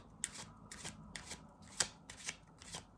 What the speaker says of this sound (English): Let me pull another card for this.